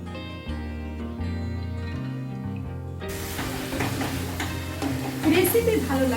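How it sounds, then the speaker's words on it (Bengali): Chicken malai curry is stirred and sautéed in a pan over medium-low flame, a soft hissing sizzle with scraping that comes in after background music. "কষিয়ে নেব 5-7 মিনিট মিডিয়াম টু লো ফ্লেমে"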